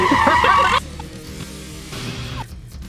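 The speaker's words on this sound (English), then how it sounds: "I do have also this tire screeching sound." A loud tire screech sound effect, a brief high squealing burst lasting under a second, followed by a quieter tail with faint background noise.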